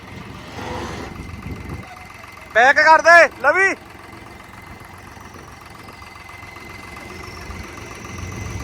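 At a tractor trolley-pulling contest, a tractor engine idles with a low steady rumble throughout, while a burst of shouting voices rises over it in the middle.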